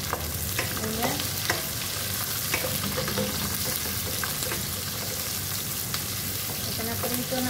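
Garlic and onion frying in a pan, a steady close sizzle with intermittent scraping and stirring taps from a utensil, continuous throughout without speech.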